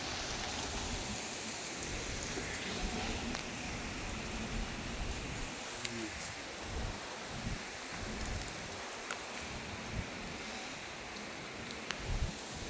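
A shallow river runs low near a hillside temple site in Akole taluka, making a steady broadband rush of flowing water that stays even and fairly distant, with a few faint ticks and no speech.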